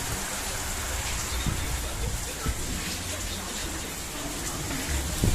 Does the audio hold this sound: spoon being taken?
no